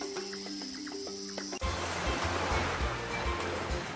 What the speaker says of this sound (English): The ocean waves are crashing onto the sandy shore.